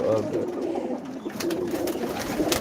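Pigeons coo in a low, continuous murmur close by, a pair of female birds in a loft, with some rustling and soft background noise throughout.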